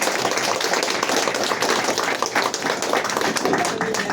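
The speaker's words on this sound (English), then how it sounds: "I'd like to ask you to give a big round of applause for our speaker, Dr. Will Tuttle" Audience applause for speaker Dr. Will Tuttle at a Thanksliving event at a Loving Hut restaurant: dense, continuous clapping from a crowd, fairly loud and close, lasting several seconds without a break.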